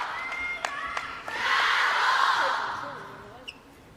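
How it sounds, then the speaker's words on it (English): Table tennis crowd at a mixed doubles semifinal in China, chanting support for Wang Chuqin: a broad swell of massed voices builds after a few sharp claps, holds for about two seconds, then fades to a murmur. "The Chateau chants in the crowd."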